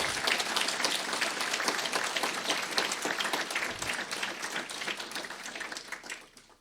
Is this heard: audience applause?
yes